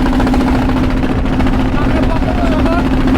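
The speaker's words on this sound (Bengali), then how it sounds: "আমরা ট্রলার দিয়ে বঙ্গোপসাগর পাড়ি দিচ্ছি" A trawler's engine drones steadily while crossing the Bay of Bengal, a constant loud hum with a strong low tone that runs unbroken beneath voices talking on board.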